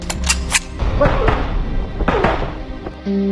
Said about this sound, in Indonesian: Cooper mencoba mengecek senjata tersebut hingga Cooper mengetesnya secara langsung dan menembak mereka berdua.